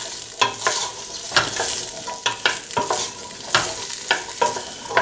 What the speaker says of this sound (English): gonna saute this for 15 minutes or so until the onions and the potatoes have at least started to soften